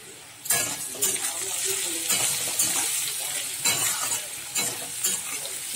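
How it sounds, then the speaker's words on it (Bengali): Potatoes frying in a pan with salt and turmeric are stirred with a utensil, giving repeated scraping and clattering strokes over a steady sizzle, close and fairly loud. "ভালো করে আলুটা নেড়ে চেড়ে নিচ্ছি।"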